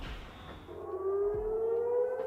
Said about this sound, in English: The wave of ballistic missiles set off sirens across Israel